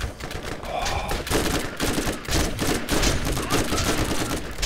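Dense, loud gunfire from the video game Borderlands fills the clip, rapid overlapping shots and bursts in continuous fusillade with no pause.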